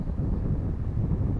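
Steady wind buffeting a microphone at a seaside spot at Morib on the Malaysian coast, a continuous low rumbling roar with no pauses and nothing else standing out.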